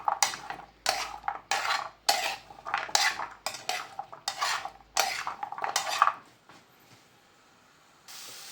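Stirring grated coconut roasting in a pan, a utensil scrapes and clinks against the metal in quick rhythmic strokes, close by, then fades into a faint sizzle.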